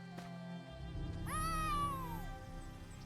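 A cat in the Dragonhold video game lets out one drawn-out, rising then falling meow, moderately loud over a constant low background drone.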